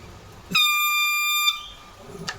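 One bright, buzzing bagpipe chanter reed note sounds for about a second, steady in pitch, then stops abruptly, leaving quiet room noise.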